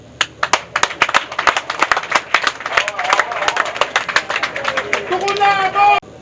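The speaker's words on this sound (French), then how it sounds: "Je demande à tous mes collègues ici présents et à tous les invités de vous applaudir" Guests at an official gathering burst into applause, starting with distinct separate claps that thicken into rapid clapping, with voices rising over it before it cuts off.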